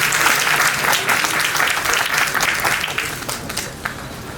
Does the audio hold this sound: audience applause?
yes